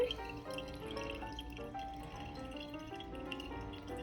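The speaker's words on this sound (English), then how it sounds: "I'm going to go ahead and pour it right into the strainer." Homemade butter and buttermilk pour into a strainer with a soft, continuous liquid trickle and dripping, quiet and close, under faint music.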